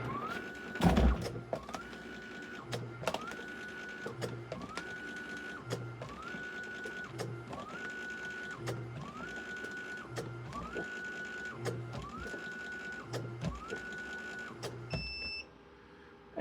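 A motorized machine cuts 1-inch dog collar material in repeated cycles, each a rising whir followed by a mechanical clunk, evenly spaced and moderately close; a sharp clatter comes at the start and it winds down near the end.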